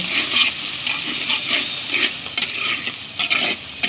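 Onions frying in hot oil with bay leaf and whole spices, stirred steadily in a pressure cooker for chicken kosha, a close, loud sizzle with rhythmic scraping and occasional metal clinks.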